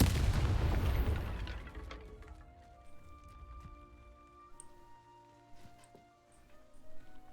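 A Confringo fire spell explodes in Hogwarts Legacy with a loud opening blast and a rumbling burst that fades over a couple of seconds, followed by lighter game effects and faint tones.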